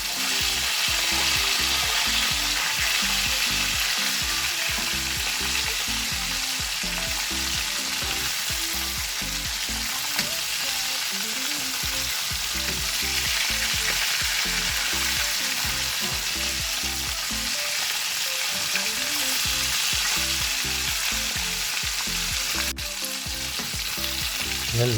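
Jollibee-style chicken drumsticks deep frying in hot oil, a dense steady crackling sizzle with popping bubbles that runs loud and unbroken throughout, no voices.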